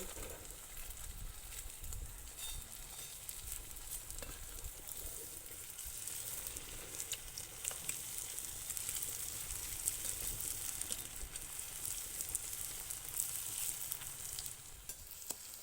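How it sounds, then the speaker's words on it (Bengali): Potato and flour snacks frying in hot oil give a steady, quiet sizzle and crackle that runs unbroken for the whole stretch, with no voices. "লাল করে ভাজা হয়ে গেছে আমার, এবার আমি এগুলোকে সব উঠিয়ে নেব।"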